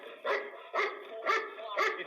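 A dog barks four times in a steady rhythm, loud and close, during a police firearm standoff at a house where a wanted man is holed up upstairs.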